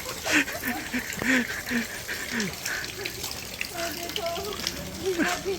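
Rain falling outdoors while someone walks, a steady wash of hiss and patter throughout, with faint voices and small scattered sounds underneath.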